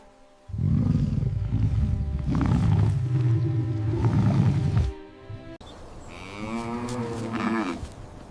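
A lion gives a long, deep, rumbling roar lasting several seconds. A separate, shorter animal call with a rising pitch follows. No one speaks.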